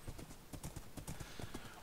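Minecraft horse hooves clip-clopping steadily at a quick trot while riding through rain, a close, continuous run of footfalls over a hissing rain bed.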